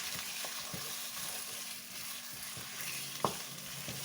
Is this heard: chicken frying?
yes